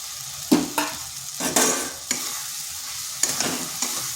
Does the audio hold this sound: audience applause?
no